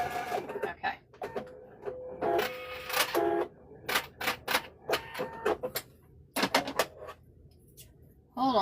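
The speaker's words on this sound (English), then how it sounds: "I had to stitch that real quick." A home sewing machine stitches a quilt piece in quick, loud bursts, several short runs broken by brief pauses, close up and quiet overall.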